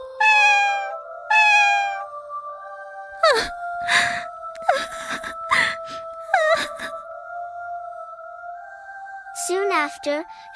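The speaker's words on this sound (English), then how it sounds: "The white cat was a star, singing her heart out for her beloved kitten." A white cat sings in a long run of wailing meows, loud and close, with drawn-out rising and falling cries, a few short breathy bursts in the middle, and more meowing at the end.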